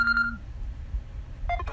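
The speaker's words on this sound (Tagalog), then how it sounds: "Ayan, nag-alarm na naman yung cellphone." A cellphone alarm gives a short electronic beeping tone and then a brief second beep, heard faintly over low background hum.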